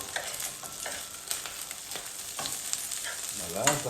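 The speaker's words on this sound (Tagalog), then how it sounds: "mapula na yung bawang at sibuyas. Ilagay naman natin itong ating hinimay na tapa." Shredded beef tapa hits a hot pan of reddened garlic and onion and is stirred, a continuous close sizzle with scraping spatula strokes and a sharper hiss near the end.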